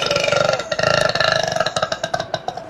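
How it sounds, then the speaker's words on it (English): A long, loud, drawn-out burp from a woman, rumbling and rhythmic, breaking into choppy pulses near the end, heard up close with no talk over it. "that's her burping"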